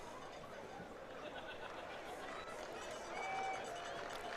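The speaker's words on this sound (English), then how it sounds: "As you can hear the Maritzburg College boys cheering in the background" Maritzburg College schoolboys cheer at a 1st XV rugby match against Kearsney College, a steady distant crowd roar with chatter that swells slightly near the end.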